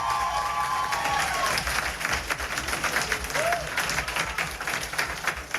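Steady audience applause at a school entrepreneurship demo day, dense clapping from a crowd that holds at a full, even level throughout.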